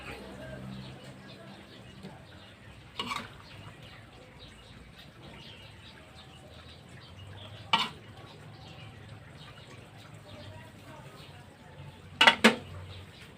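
Metal utensil scraping and clanking against a pan as spicy stir-fried catfish with local herbs is scooped out onto plates, three sharp clatters separated by quiet gaps, with someone talking in between.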